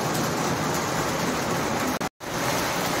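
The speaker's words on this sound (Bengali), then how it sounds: "তো দেখো বন্ধুরা কত জোর বৃষ্টি হচ্ছে" Heavy rain falls in a steady, dense hiss outdoors, with a short dropout of silence near the middle before the downpour resumes.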